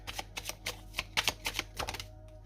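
Oracle cards are shuffled in a quick run of crisp, papery flicks and riffles, close and fairly clear, over a faint steady hum with no voice.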